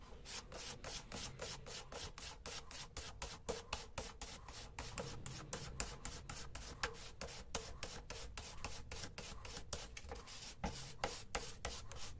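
A knife blade drawn over dry paper sandpaper, a fast, regular rasping scrape repeating about three to four times a second, close and steady with no talking.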